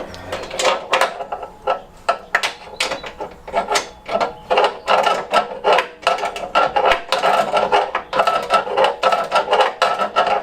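A hand ratchet clicks in quick repeated strokes, close and loud, tightening bolts while a classic Fiat 500 engine is refitted, with short pauses between runs of rasping clicks.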